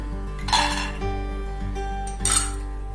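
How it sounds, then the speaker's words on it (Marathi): Metal utensils clink and scrape against a heavy-bottomed kadai while cashews, almonds and walnuts roast, with a couple of louder rattling stirs over a steady low kitchen hum. "थोडे हलके परतून घेऊ आपण यांना।"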